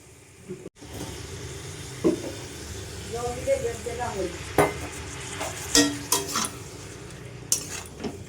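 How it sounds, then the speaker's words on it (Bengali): Chicken gizzards in a pan over low flame are stirred after water is added, producing a gentle sizzle with repeated metallic spoon scrapes and clinks against the pan, close and moderately loud. "ভালো করে নাড়াচাড়া করে নেবো"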